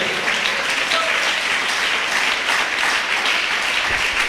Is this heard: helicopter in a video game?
no